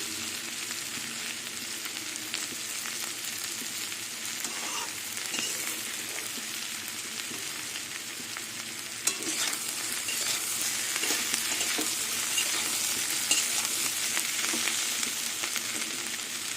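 Ivy gourd with potato and onion fries in a pan, a constant bright sizzle and crackle with occasional stirring scrapes, close and steady throughout with no talk.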